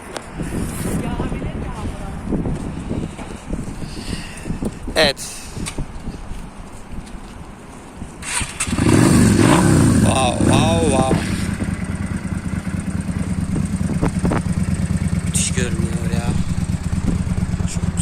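Yamaha Virago 535 motorcycle, a 2001 model with aftermarket chrome exhausts, idling close by with a steady low rumble, then revving louder around the midpoint and settling into a sustained throb, with some wind noise throughout.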